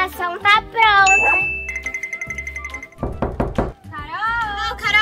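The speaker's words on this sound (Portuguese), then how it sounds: "Oh, Carol, abre a porta. A gente quer brincar." A series of quick, rhythmic knocks on a door, close and loud, in a children's play scene with a small playhouse, followed by a child calling out; children's voices and a high tinkling tone are also heard before the knocking.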